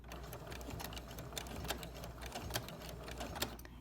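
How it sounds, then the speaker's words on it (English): A sewing machine back stitches in a fast, steady mechanical rhythm on a quilted potholder, needle clattering close by with no talking. "So now I'm going to back stitch"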